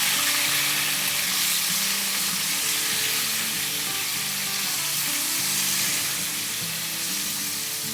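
Green chilies fry with salt over high heat, giving off a loud, continuous hiss and crackle of hot oil that stays steady and close, with a faint low hum beneath and no voices.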